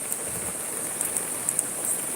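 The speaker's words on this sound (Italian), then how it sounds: "come potete vedere piove proprio di brutto" Heavy storm rain pours down steadily outdoors, a dense continuous hiss with a few sharper drop impacts, with no one talking.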